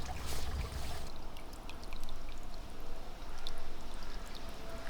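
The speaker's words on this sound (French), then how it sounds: "L'eau peut à nouveau s'écouler librement." The Touet river flows freely as a steady, broadband rush of water with faint splashes and droplet ticks, heard close and continuous without talk.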